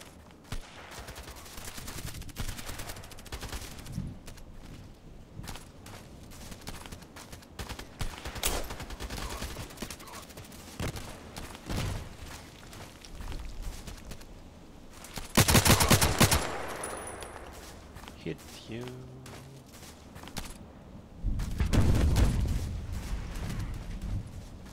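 Gunfire in the online shooter Contract Wars, with near-constant bursts of automatic fire and scattered single shots, a loud rapid volley partway through and heavy booms toward the end.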